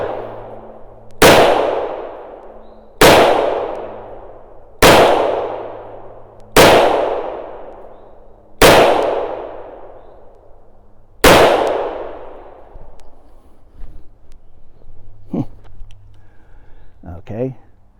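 Seven loud, sharp shots from a .45 Colt pistol, fired in a steady rhythm about two seconds apart, each with a ringing tail, followed by quieter handling clicks and faint voices.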